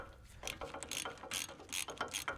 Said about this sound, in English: Install the 3 rear bolts and use a torque wrench to get them tightened properly.